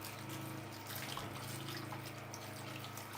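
Tap water runs steadily over fresh fruit being washed in a kitchen sink, a continuous close splashing wash with no talking.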